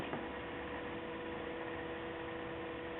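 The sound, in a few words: hum of Toyota Prius high intensity headlamps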